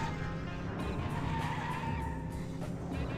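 A car drifting in the Nintendo 64 racing game Cruis'n produces a sustained tire skid and squeal over a droning engine, loud and continuous throughout.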